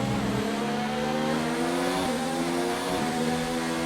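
A Formula 1 race car engine in F1 2019 at the Australia race, a loud, sustained high whine whose pitch dips sharply twice as the driver downshifts, then climbs again, with no voices over it.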